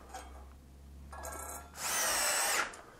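Screw gun driving screws into a drywall ceiling substructure, short whirring bursts that build to one longer, louder drive near the end, with no voices.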